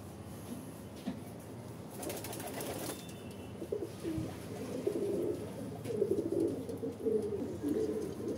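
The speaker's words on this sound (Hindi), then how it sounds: "ये कबूतर बैठे हैं हमारे, ये कबूतर बैठे हैं" Pigeons coo in soft, low, repeated throaty phrases that grow fuller in the second half, over faint background hiss and a brief rustle.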